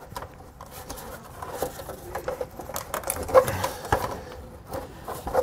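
A trim tool works under the head of a plastic push-pin fastener on a 2003 Ford while fitting a front-mount trailer hitch, giving faint scratchy clicks and creaks up close over a low background hum.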